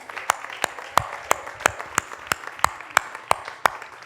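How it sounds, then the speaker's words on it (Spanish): A church congregation gives unison applause after prayer, with loud, evenly spaced claps in a steady rhythm of roughly three beats per second and a faint murmur underneath. "Dale un aplauso al Señor."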